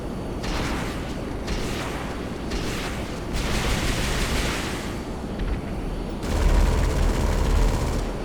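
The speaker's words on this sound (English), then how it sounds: "The A10 is more likely known for its distinctive minigun cannon sound" An A-10 jet's minigun cannon firing in the game GTA, long loud roaring bursts of rapid fire separated by short gaps, with a heavier booming burst near the end.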